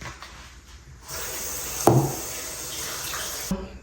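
Tap water pours into a bowl of soaking baby back ribs, a steady hiss of running water that starts partway through, with a clunk of handling and a brief knock near the end.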